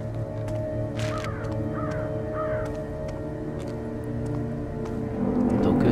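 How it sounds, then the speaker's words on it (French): In the video game Thief, crows give several harsh caws in short bursts over a constant low ambient drone and faint scattered ticks. "Donc ça les corbeaux."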